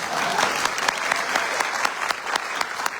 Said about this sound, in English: We can never applaud performing artists enough.